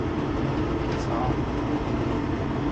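A furnace blower motor runs steadily just after starting up in a home with a no-heat problem, a loud, continuous broadband whir and rumble that holds even throughout without pauses.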